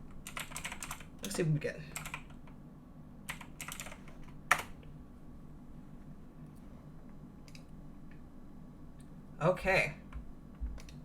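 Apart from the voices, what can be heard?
typing on a computer keyboard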